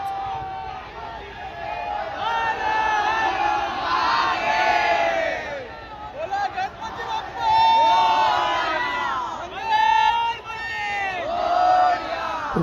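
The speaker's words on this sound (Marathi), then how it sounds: "खूपच गर्दी आहे आगमनाला" A large, dense crowd at the Kalachowki Maha Ganpati arrival procession in Mumbai, with loud continuous chatter and shouts, rising into bursts of cheering and yelling throughout.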